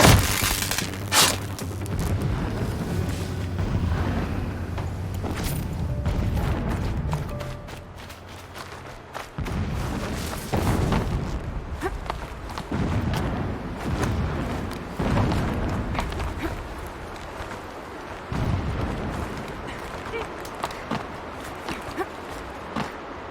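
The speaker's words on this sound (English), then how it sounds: "Explosions in the distance." Distant explosions in the video game Horizon Zero Dawn, a series of deep booms and rumbling bursts spread unevenly through the scene, some sharp and some rolling, heard over a low ambient background.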